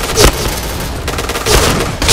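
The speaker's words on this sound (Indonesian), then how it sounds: "Eh, coba kita bom dulu lah." A bomb blows up amid gunfire in the online shooter Point Blank: two loud, broad bursts rise out of a dense, continuous crackle of rapid shots.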